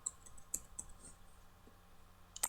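Sharp, light mouse clicks land on a login button in a quiet room, a few isolated taps spread out over the moment with a faint steady background hum.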